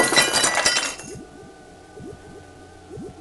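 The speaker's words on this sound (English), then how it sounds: "If I hit this pane of glass with this hammer," Hammer striking a pane of glass, shattering it in one loud crash with a burst of bright tinkling shards, then small scattered clinks as pieces settle.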